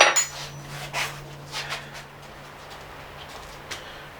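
Metal parts of a vise fixture are put back together on a workbench, a few light clinks and taps scattered over a low steady hum, quiet and close.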